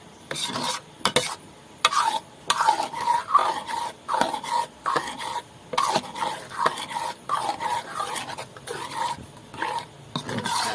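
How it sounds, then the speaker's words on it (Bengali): Ghee being stirred through palm-fruit kheer in a pot, a steady run of scraping, rasping strokes with a brief gap between each, close and fairly loud with no talk. "এই ঘিটা দিয়ে সব জায়গায় এইভাবে নাড়িয়ে এটাকে নামিয়ে দিলাম"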